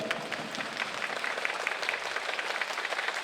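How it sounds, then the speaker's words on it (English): An audience at a college event claps vigorously on cue, a fast, crowded patter of many hands at an even, moderate level throughout the short burst. "I want you to vigorously clap 15 times."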